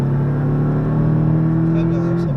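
A Porsche 718 Cayman on the Le Mans circuit, its engine note rising steadily under throttle, then dipping at the end, heard close from inside the car while an instructor talks.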